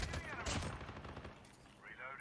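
Rapid automatic gunfire from the Blitz weapon in a COD Mobile battle royale match, loud and continuous bursts filling the short stretch, with a player's voice talking over the shooting.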